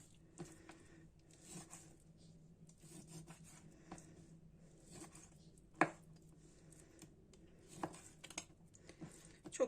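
A knife cuts lamb meat into large pieces for a güveç stew, producing faint, soft scraping and rubbing with a few sharp clicks against the board.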